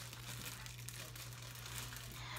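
Plastic packaging ripped open by hand, steady crinkling and crackling with tearing, close but fairly quiet over a low constant hum, with no talking.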